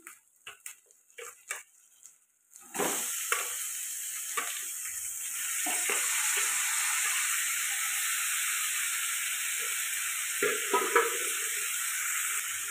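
Chicken pieces fry in a pan with sizzling ginger-garlic paste, a few stirring knocks at first, then a loud steady hiss that continues with occasional scrapes and crackles.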